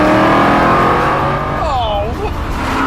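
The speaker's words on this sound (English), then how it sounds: "380 horsepower V8 as you get in the Vantage Coupe, which means it makes the same noise" A loud 380-horsepower Aston Martin V8 Vantage engine roars close by, revving with a rising and falling whine, with a brief voice audible over it.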